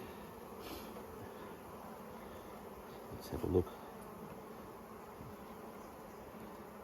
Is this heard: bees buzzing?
yes